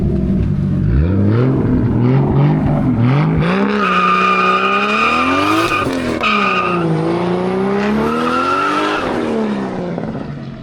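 Toyota MkII with a 1JZ engine revving hard on a dyno, the loud engine note climbing and falling in repeated sweeps, close and continuous for the whole stretch.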